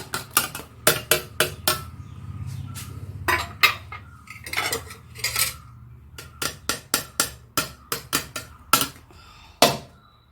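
A metal idli pan tapped repeatedly to loosen cooked idlis, giving a rapid run of sharp, close metallic knocks in uneven bursts separated by brief pauses.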